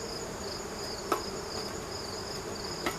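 Honeybees drift around an open hive during a mid-September inspection before honey extraction, a steady faint insect hum with no talk over it and two soft knocks from handling the equipment.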